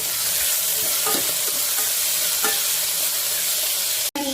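Onions and tomatoes sauté in a pan with a steady, loud sizzle close by, broken by a few soft stirring scrapes and a sharp click near the end.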